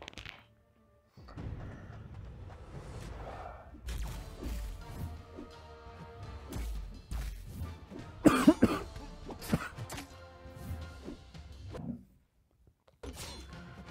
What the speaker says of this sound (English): I had to cough, man.